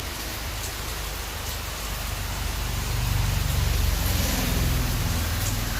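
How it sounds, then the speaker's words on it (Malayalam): Heavy rain pours down steadily in a dense, continuous hiss that swells louder midway, with no voices over it. "ഭയങ്കര മഴ കേട്ടോ."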